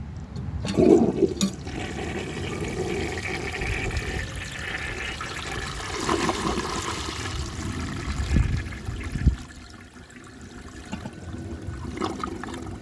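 A 1930 Eljer Sanus toilet flushes with a loud, close gush of water that swirls and drains, then tapers into trickling and refilling sounds, with no voices.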